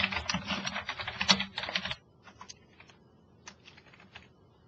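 Fingers type on a computer keyboard: a dense, quick burst of close key clicks for about two seconds, then a few sparse, softer taps trailing off in a quiet room.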